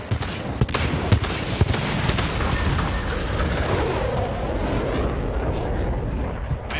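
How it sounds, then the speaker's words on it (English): A friendly VTOL jet in a video game sweeps overhead with a rising, roaring engine whoosh, mixed with sharp distant gunfire and explosive cracks early on, loud and busy throughout. "Friendly VTOL jet on."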